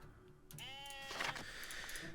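Sheep bleating at a sheep farm in the Masterplan Tycoon video game, a single short wavering bleat, fairly faint and heard alone.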